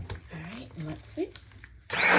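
A blender whirs up loudly at the end, mixing cold-process soap batter after titanium dioxide is added, following a stretch of quiet talking.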